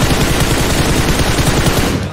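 Automatic gunfire in the battle-royale game PUBG Mobile: a loud, close, rapid stream of shots that rattles on without a pause, then cuts off at the end.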